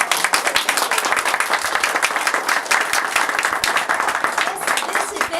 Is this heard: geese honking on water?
no